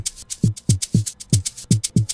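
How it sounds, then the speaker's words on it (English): Deep, booming electronic kick drum hitting on a steady beat, about eight punchy thuds with a short pitch drop, alone and close. "First we have the 808 kick over here"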